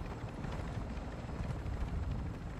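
A helicopter in Call of Duty DMZ whirs with a steady, fast rotor chop, heard fairly close and continuous throughout, without talk.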